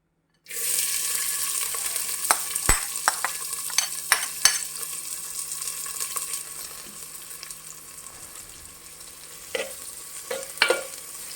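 Onion sizzles in hot oil for Goan pork vindaloo, a loud, steady hiss with crackling that begins abruptly. Scattered sharp clinks of a spoon against the pan are heard close by, with no talk.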